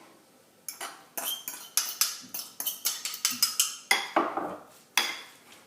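Mackerel sauce being mixed in a bowl with a utensil, producing a quick series of sharp metallic clinks and scrapes against the bowl, close and fairly loud, with a brief spoken word.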